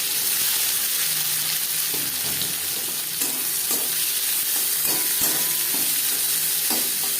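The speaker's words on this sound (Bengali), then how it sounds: "কড়াইতে আবারও তেল দিয়েছি দিয়ে দেবো পেঁয়াজ কেটে" Steady, loud sizzling of chopped onions frying in hot oil in a wok, continuous throughout with occasional scraping and stirring clinks from the pan.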